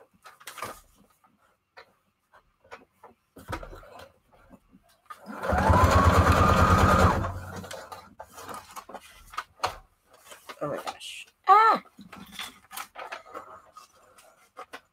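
A sewing machine stitches a junk journal signature into a fabric-covered hardcover book, running loud and steady for about two seconds, with quiet handling clicks and brief speech before and after.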